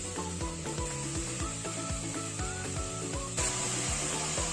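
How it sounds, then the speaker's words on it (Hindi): Mutton frying in spices in a pot for biryani, giving a steady close sizzle with regular scraping strokes as the meat is stirred throughout. "4 से 5 मिनट के लिए मटन को मसालों में भूनने के लिए छोड़ देंगे और हल्का हल्का चलाते रहें।"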